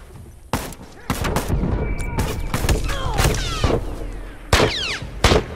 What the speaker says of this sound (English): Look out! You got a rifle!